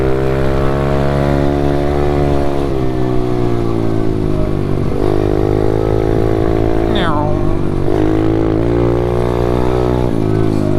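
SSR pit bike engine held in fourth gear, a steady loud harmonic drone with the pitch creeping up and dipping slightly, close and continuous throughout.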